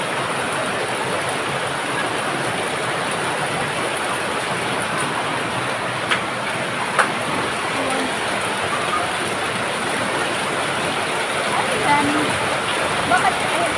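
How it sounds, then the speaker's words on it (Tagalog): Heavy rain pours steadily as a dense, constant hiss that stays loud throughout, with a few faint knocks near the end and people talking quietly underneath. "Grabe, lumalakas na naman yung ulan."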